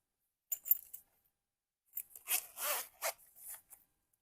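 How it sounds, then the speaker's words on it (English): The zipper on a zip-around wallet opens in a short rasp, then after a pause zips again in several quick, scratchy pulls, close and alone in a quiet room. "And it's a zipper here for change, of course."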